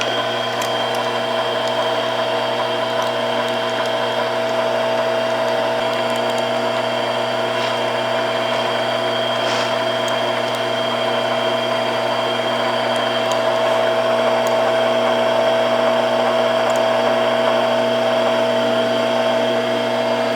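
A metal lathe turns slowly at 65 rpm with a parting tool set up and cutting oil applied, giving a steady, close mechanical hum with constant tonal whine and faint ticking throughout, no voices.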